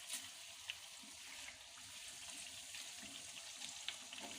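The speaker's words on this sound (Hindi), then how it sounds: "जब तक दही और पानी खुश्क होता है तब तक हम इसे भूनेंगे" Chicken karahi with yogurt fries gently in a pan over a low flame, giving a soft, steady sizzle with faint crackles and no talking.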